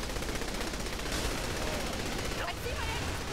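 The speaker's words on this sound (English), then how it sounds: "Quickly shoot the missile." Automatic gunfire in Saints Row The Third, aimed at an incoming missile, sounds as a dense, continuous rattle under a voice talking throughout, with a brighter burst around the middle.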